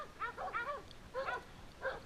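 A dog gives four quick bursts of high yips and whimpers, quiet and fairly distant, with short gaps between them.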